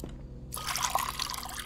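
Water pours into a coffee maker in the video game Fears to Fathom, a brief steady liquid splash beginning after a short quiet moment and running close and clear to the end.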